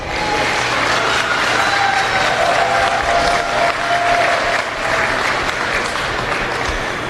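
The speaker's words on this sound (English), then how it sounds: "let's give all of these exhibitors a round of applause" At a county youth fair, an outdoor crowd gives the exhibitors loud, sustained clapping, a steady roar of hands with faint voices mixed in.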